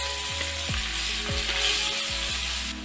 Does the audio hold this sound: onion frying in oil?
yes